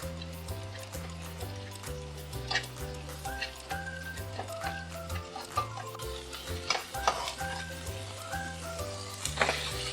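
Masala spices for a Khandesi chicken curry sizzling in a pan, with steady frying hiss and repeated scraping and clinking as a spoon stirs them, close and fairly loud with no talking.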